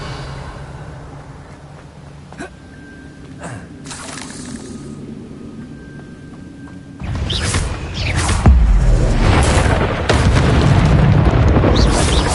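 Revelio spell effect from the game Hogwarts: a quiet, sparse opening with faint chimes and tones, then a sudden loud, rumbling magical burst that swells and sustains with crackling shimmer to the end.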